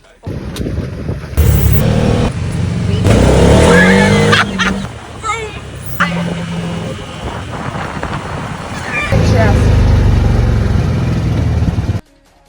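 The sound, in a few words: buggy driving through a vineyard in Croatia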